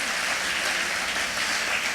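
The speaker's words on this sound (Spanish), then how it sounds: "Vamos a un fuerte aplauso al Espíritu Santo de Dios." A church congregation gives a strong round of applause during a sermon, a brief, dense, even burst of clapping throughout.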